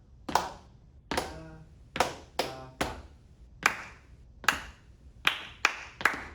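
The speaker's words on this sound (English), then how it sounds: "We're going to do some clapping." Hands clap out a rhythm during a children's summer arts camp music lesson: about ten sharp, close claps spaced unevenly, with quicker pairs near the end, and no talking.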